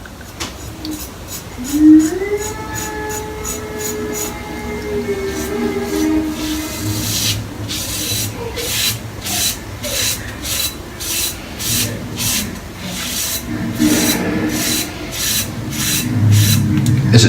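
Straight razor or safety razor scraping across a lathered scalp during a head shave, in a rapid series of rhythmic rasping strokes that keep going and get denser, close to the microphone, with a faint voice early on.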